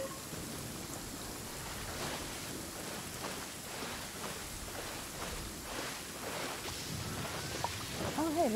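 Steady rain hiss from the Genshin Impact video game, a continuous wash of falling drops throughout, with faint game sounds and a brief tonal blip near the end.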